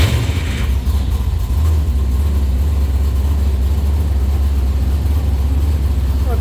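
A Superlite Aero car engine, fitted with bypass mufflers, runs at a steady idle just after starting, a loud, close, continuous low rumble with no talk over it.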